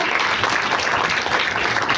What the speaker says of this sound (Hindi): आप सबके लिए दिल से जबरदस्त ताली होना चाहिए।